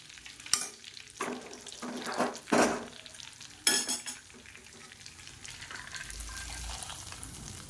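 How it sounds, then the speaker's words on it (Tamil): Hot fried ginger and asafoetida tempering in ghee is tipped into venpongal: a few sharp clinks and scrapes of a pan and spoon, a brief sizzle, then a soft continuing hiss. "இதை நம்ம எடுத்து அப்படியே பொங்கலில் கொட்டிடலாம்"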